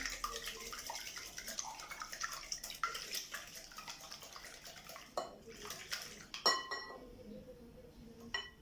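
Two eggs being whisked in a bowl for small cakes, a steady clinking and scraping of utensil against the bowl, close and continuous, with a few sharper clinks toward the end.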